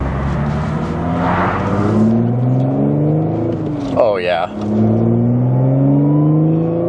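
A loud Audi S5 exhaust with resonated test pipes revs and drones up and down in pitch, with a raspy crackle on a downshift; a voice briefly exclaims over it.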